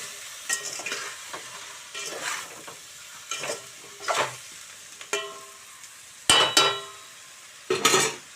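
Curry leaves added to a pan during sambar cooking give a soft sizzle, broken up by intermittent stirring scrapes and utensil clinks that come in bursts, with no talk.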